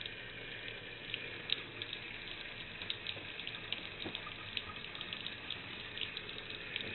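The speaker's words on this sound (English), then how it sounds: "Just run water through it till it's clear." Water runs steadily through a pump tube being flushed clear after a clog, a faint, even stream of trickling and splashing with no voices.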